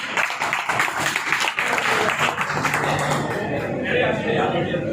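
Applause from a crowd at a stage event, dense and fairly loud clapping that lasts about five seconds. A voice talks over it.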